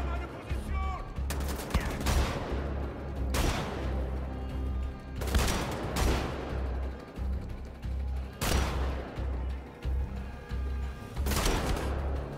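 Gunfire in the Wolfenstein: The Old Blood video game, repeated loud bursts of shots at irregular intervals over a low rumbling game soundscape.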